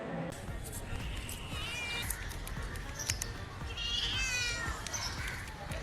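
A cat meows several times at moderate distance, its rising calls heard over background noise and faint household sounds.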